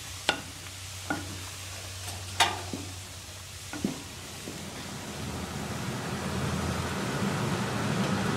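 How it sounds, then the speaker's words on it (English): A spoon stirs simmering fruit in a pot after baking soda goes in for an eggless, sugarless fruit cake, with a few sharp clinks against the pot over a steady fizzing, bubbling hiss. "add my baking soda, give it a good stir, make sure everything is mixed properly."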